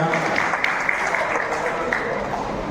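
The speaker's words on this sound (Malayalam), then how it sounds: "കൈയടിക്കാം" A crowd at a fine arts society's annual general meeting claps steadily, a dense patter of many hands that holds at an even level throughout.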